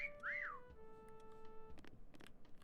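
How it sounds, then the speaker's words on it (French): In the Meccha Chameleon hide-and-seek game, a single short rising-and-falling whistle rings out clearly at the start, then fades into faint tones and soft clicks. "il commence à faire trop les malins à siffler."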